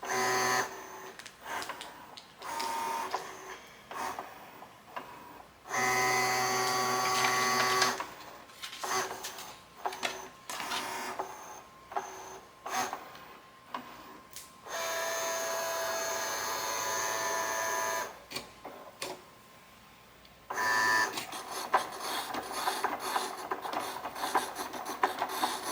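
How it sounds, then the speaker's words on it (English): A Cricut Joy 2 cutting machine measures its mat and scans registration marks, giving a stop-start mechanical whir with short motor bursts, clicks and sliding rasps, plus several longer steady buzzing passes, all close and moderately loud. "It's going to measure the length like all the other Cricuts do, and then it's going to start scanning the registration marks."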